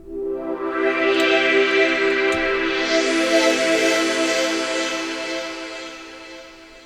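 The default synth patch on a Sonicware ELZ_1 plays from its keys through the internal speakers: a rich, sustained chord-like tone with a swelling, filtered sweep in the middle, steady and loud, then gently fading.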